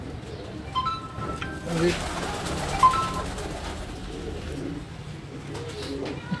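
Loft pigeons coo softly at a home pigeon loft, low throaty calls somewhat distant beneath someone speaking close by.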